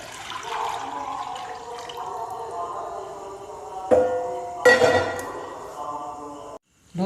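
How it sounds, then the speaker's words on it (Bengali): A litre of milk pours into a kadai set on the stove, a close, steady liquid stream with a couple of sharper splashes before it cuts off abruptly near the end. "এই দুধটা আমি কড়ার মধ্যে ঢেলে দিচ্ছি।"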